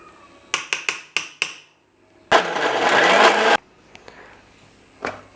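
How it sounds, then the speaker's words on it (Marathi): A mixer grinder blending raw mango chutney whirs in several short pulses, then runs in one steady burst for about a second before stopping, followed by a few clunks. "आणखीन एकदा मिक्सरमधून याला फिरवून घ्यायचं आहे"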